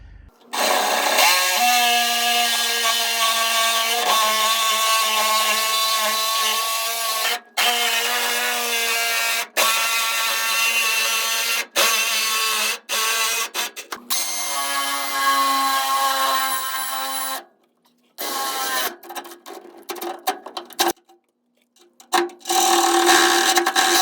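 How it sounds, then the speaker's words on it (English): Sawzall reciprocating saw and cutoff wheel cutting a C-notch into a steel truck frame on a 1999-2006 Chevy Silverado, a loud continuous harsh grinding whine with several short pauses as the tool stops and restarts. "I like to use a combination of a Sawzall and then also a cutoff wheel when needed"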